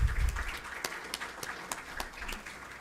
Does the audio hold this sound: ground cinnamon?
no